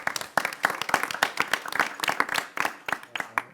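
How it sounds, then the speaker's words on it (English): Audience applause at a Colleyville city council meeting: a brief burst of many hands clapping at a lively, uneven rhythm, moderately close and unaccompanied by talk. "she deserves an award. Applause for that."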